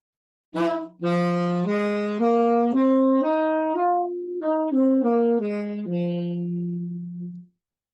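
A brass horn plays a slow minor pentatonic scale from the root of distinct held notes, stepping up and then back down, solo and clear.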